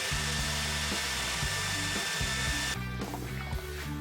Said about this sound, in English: next we gotta dry it with the blow dryer to make sure it doesn't rust